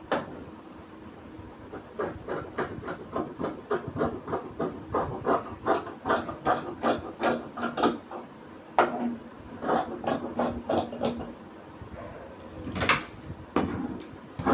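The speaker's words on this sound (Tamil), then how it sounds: "இப்போ இதை நம்ம கட் பண்ணி எடுத்துக்கிடலாம்." Scissors cutting through blouse fabric, a long run of quick, crisp snipping strokes close by, steady at first and then looser, with no talking.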